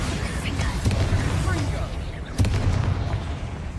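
A Bombarda explosion spell in Hogwarts Legacy goes off as two heavy booming blasts over a dense rumbling game soundscape.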